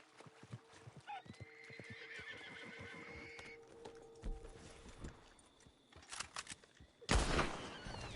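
A horse in a video game whinnies loudly with clip-clopping hooves, amid scattered gunfire bursts and a sharp blast near the end, under light game noise.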